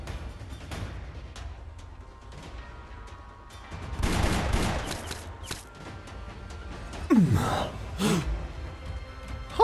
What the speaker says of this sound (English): Let's make up for all those gunshots we haven't heard over the years.